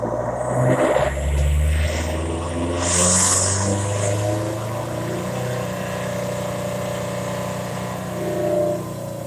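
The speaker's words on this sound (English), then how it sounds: "I'll put a window down so you can hear some exhaust noise and some roller noise." A 2020 Subaru STI running hard on a chassis dyno, heard from inside with a window down: a loud, steady exhaust drone with whirring roller noise underneath, holding a constant level with no talking.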